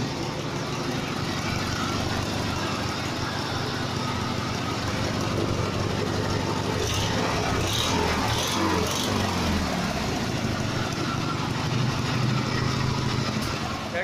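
A small opposed twin engine with a carburetor that only keeps running on choke, a loud steady drone running continuously with a rough, slightly uneven texture and no pauses.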